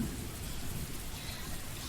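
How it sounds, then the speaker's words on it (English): Steady rain falling with a dense, even hiss throughout, close and constant, with no talking. "So calming, just listening to the rain."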